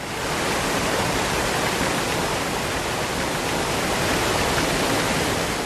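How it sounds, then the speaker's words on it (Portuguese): Powerful waterfall in the Atlantic Forest of Serra da Bocaina, Brazil, a steady, dense roar of rushing water that holds loud and unbroken throughout, with no voices. "os calmos rios se transformam em quedas poderosas"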